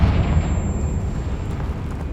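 A Confringo spell blast in Hogwarts Legacy: a heavy low rumbling burst that opens loud at once and then rolls and fades slowly over a couple of seconds.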